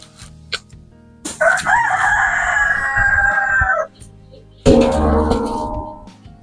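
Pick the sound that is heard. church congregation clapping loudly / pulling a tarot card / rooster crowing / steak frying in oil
rooster crowing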